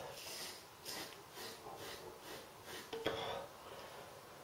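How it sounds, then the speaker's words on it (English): A Merkur Futur safety razor drags up against the growth on a lathered face, giving a close, faint, steady scratchy rasp repeated in short strokes, with one slightly louder scrape near the end. "As you can hear, lovely sound that. Means the razor's doing its job."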